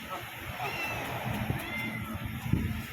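Several cats meow while being fed meat, thin wavering cries rising faintly over a murmuring background, with low voices and shuffling underneath.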